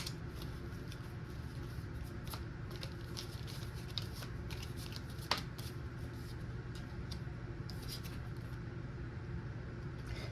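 Tarot cards are shuffled and pulled by hand, giving soft papery riffles and occasional sharp card snaps over a steady low background hum, with no talking.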